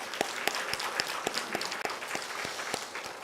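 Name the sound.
congregation applauding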